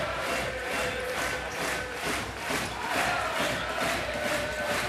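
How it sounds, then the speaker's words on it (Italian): Futsal fans in the stands behind the goal roar and shout for a goal during a playoff final, a loud sustained crowd clamour with surging waves of cheering. "già stavano gridando al gol i tifosi dell'Asti, la gradinata dietro alla porta"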